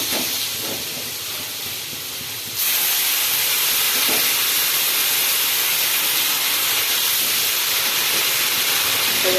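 A little water poured into a hot pan of ground coriander, cumin and chili, bursting into a loud, sustained steamy hiss after a quieter opening, close and continuous with no talk.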